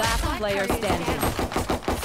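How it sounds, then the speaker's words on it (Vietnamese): Rapid automatic gunfire from a shooting video game, loud and continuous in dense bursts, with a game announcer voice and player chatter over it. "Sao trời bắn kinh thế?"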